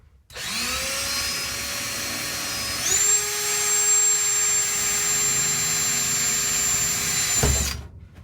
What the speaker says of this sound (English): you just gotta let the drill bit do the work